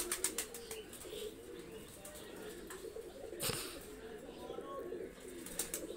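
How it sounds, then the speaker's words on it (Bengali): Two white pigeons are let go, giving faint cooing and brief wing flaps against a quiet, steady background, soft and somewhat distant. "দুইটা কবুতর আমি ছেড়ে দেখাচ্ছি।"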